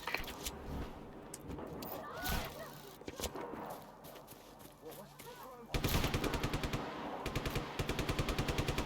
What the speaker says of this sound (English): That's them shooting, I got nothing to do with it.